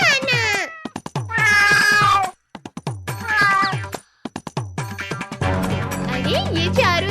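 A cat meows and yowls repeatedly in sharp, drawn-out cries with short pauses, close and loud, ending in a burst of overlapping caterwauling and commotion; the cries may be a voice imitating a cat in a comedy sketch.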